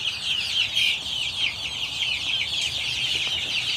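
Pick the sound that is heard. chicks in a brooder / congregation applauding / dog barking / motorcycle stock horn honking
chicks in a brooder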